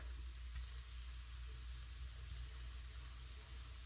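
Chopped bacon and ground beef frying in a pan, giving a faint, steady sizzle that runs without a break through the short clip alongside a low background hum.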